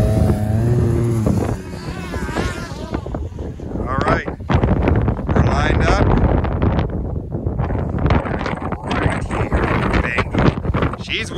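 Wind buffets an open mic on a side-by-side UTV doing wheelies, a dense, roaring broadband rush under engine noise and brief speech at the start.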